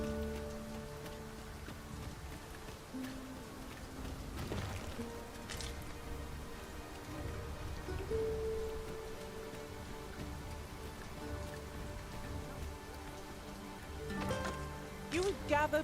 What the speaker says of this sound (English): Tis raining. Let us find cover ere the water enters our boots.